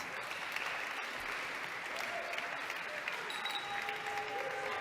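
An audience at the EINE WELT Song Contest finale claps steadily and densely throughout, with faint voices and tonal bits mixed into the dense applause.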